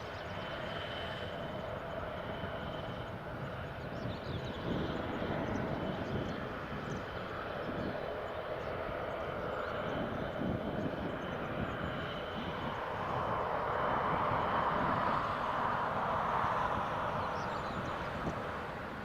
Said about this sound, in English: Aer Lingus ATR